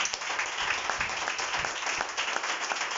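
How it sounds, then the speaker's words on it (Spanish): A church congregation at worship applauds, a steady wash of many hands clapping at moderate distance with no break. "Dale un aplauso al Señor más fuerte."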